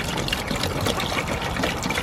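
Water pours steadily into a chicken drinker, a continuous close gushing fill with no pauses and no talking.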